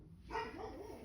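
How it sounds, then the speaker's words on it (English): A dog barks once in a single short burst, fairly close and clear over a quiet room, followed by faint low residual noise. "that is a dog barking"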